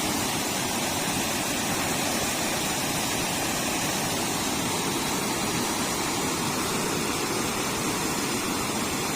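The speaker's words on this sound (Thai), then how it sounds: "น้ำไหลเชี่ยวมาแบบแรงจัด" Fast-flowing floodwater pours over a weir on a rural road crossing, producing a loud, steady, broadband roar that continues without a break, with no voices.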